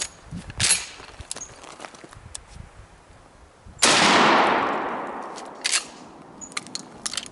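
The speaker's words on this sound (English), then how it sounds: "I just patterned the Rio double-aught buck 9 pellet" A Mossberg 590 20-inch shotgun fires double-aught nine-pellet buckshot, one loud blast with a long decaying outdoor echo, plus a few quieter handling clicks around it.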